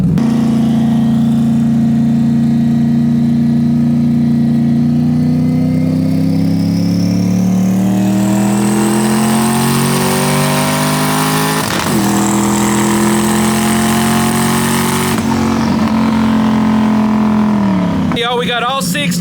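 A twincharged Ford Crown Victoria engine runs loud and close, its drone climbing steadily in pitch as it revs up, then dropping sharply near the end.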